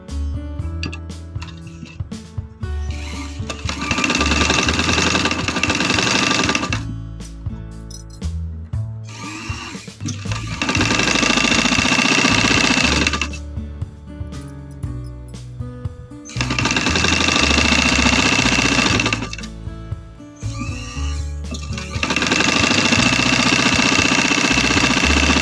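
A sewing machine stitches along the hem edge of a trouser leg while invisible lace is attached. It runs in four loud, steady mechanical bursts with short quiet pauses between them.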